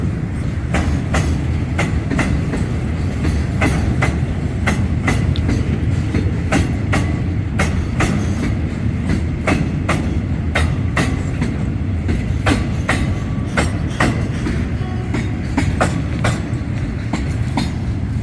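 A GEK locomotive hauls a short string of oil tank wagons past Bang Sue, a steady loud rumble with rhythmic clickety-clack wheel beats over rail joints repeating throughout at close range.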